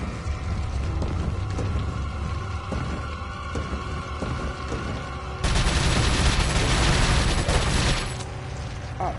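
Heavy shotgun blasts and combat noise in Resident Evil 4, a steady loud rumble of fire that swells sharply partway through, with no talk.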